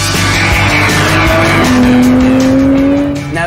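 A BMW M car, a race-bred road car, drives hard with a loud engine note rising in pitch and tires squealing through a long, continuous skid, close and alone with no talk.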